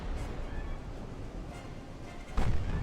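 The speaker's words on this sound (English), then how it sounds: "they're shooting at the armoured cruiser" Naval guns fire in the 1910-era warship game Ultimate Admiral Dreadnoughts, a low rumbling battle bed with one sharp, louder gun boom near the end.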